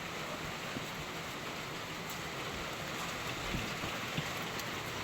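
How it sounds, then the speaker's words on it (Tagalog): Heavy, steady rain pouring down, a dense broadband roar with occasional louder drops and splashes, no voices. "Grabe ang ulan mga palangga oh."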